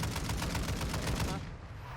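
Rapid automatic gunfire in a Call of Duty: Warzone battle royale match: a steady, loud burst of close shots that cuts off near the end, leaving a quieter background.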